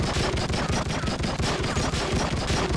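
Rapid, continuous pistol fire in the crime video game True Crime: Streets of LA, with loud, closely spaced shots rattling off in a steady burst and no pauses.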